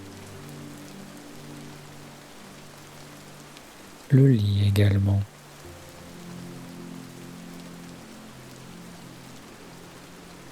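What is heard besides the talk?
rain falling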